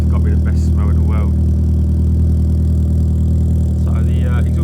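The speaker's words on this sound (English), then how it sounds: "So that's the car on cold start." An Opel Astra G with a Z20LET turbo engine and repacked racing silencer idles after a cold start, a steady low exhaust drone throughout while a person talks over it.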